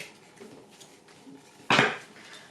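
A deck of tarot cards is cut by hand, giving one sharp papery riffle-like burst that fades over about a second after a quiet stretch of faint shuffling.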